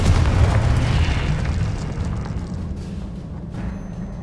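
In Hogwarts Legacy, a Confringo blasting spell sets off a fiery explosion, heard as a loud rumbling boom that fades slowly into a crackling roar over a few seconds.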